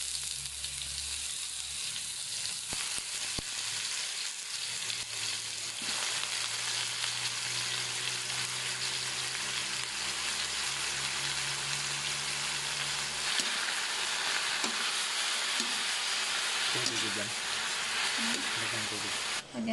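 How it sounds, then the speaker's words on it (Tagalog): Wild mushrooms sautéing in a pan with onion and garlic, a steady close sizzle with occasional stirring scrapes, continuous throughout as a voice talks over it. "Nagigisa lang tayo ng sibuyas at bawang. Lagyan natin ang ating kabuti."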